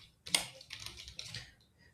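Short burst of computer keyboard typing, a quick run of light key clicks close by, with faint talk nearby.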